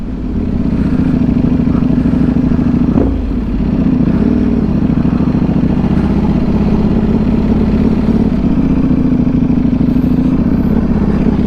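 A 2025 Ducati V4S motorcycle cruises through downtown Orlando around Lake Eola, its engine a steady, loud, close rumble that holds nearly constant throughout, with a brief dip and swell partway through.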